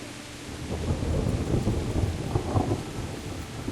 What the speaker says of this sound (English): Can't believe it is raining now